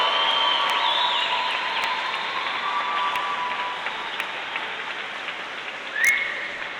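A graduation ceremony audience claps and cheers in a large hall, a dense, sustained roar of applause with shouts and whistles mixed in, steady and loud throughout.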